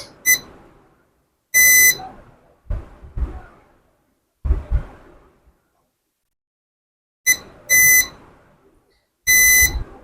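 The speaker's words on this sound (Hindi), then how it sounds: "जिसके एक साइड पे बीप मिल रहा है मैं दूसरा चेक कर रहा हूं।" A multimeter gives continuity beeps while probing capacitors on a Samsung SM-A125 phone board: about five short, sharp, high tones in irregular bursts, separated by quiet gaps and soft probe clicks.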